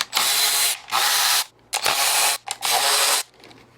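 Pneumatic or power ratchet tool spinning bolts loose while removing the valve cover from a 1995 Mercedes E320 3.2L inline-six engine, four loud whirring bursts separated by short pauses, no talk.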